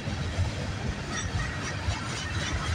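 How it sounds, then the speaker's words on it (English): Canadian National freight train CNA422, running from Port Robinson, Ontario, to McMillan Yard in Toronto, rumbles steadily past with rhythmic wheel clatter, rail hiss and a little flange squeal, loud and close with no voices. "Symbol on this train is CNA422."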